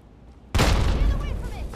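Frag grenade exploding in Fallout 3, a sudden loud close blast after a quiet moment, trailing into rumbling debris and noise, with a voice talking underneath.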